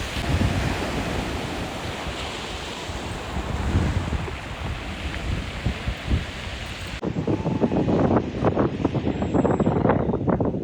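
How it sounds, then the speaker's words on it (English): Ocean waves break on the shore at Deception Pass State Park, a continuous roar of surf mixed with gusty wind buffeting the microphone, shifting to closer, choppier splashes partway through. "Checking out all the waves."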